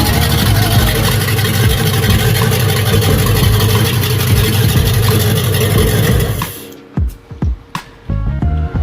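A swapped LS V8 engine runs loud and close with a steady rumbling drone, then cuts back to a quieter idle broken by a few sharp revs.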